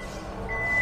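A 2022 Hyundai Palisade facelift's power tailgate closes by remote, with a steady electronic warning beep tone over a low mechanical hum that grows slightly louder as it shuts.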